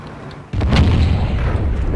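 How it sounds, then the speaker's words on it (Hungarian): A single loud tank cannon shot in World of Tanks, a sudden deep boom that cuts in sharply and rolls on with a low rumbling tail, close and heavy. "Sherman mellett a lövésem."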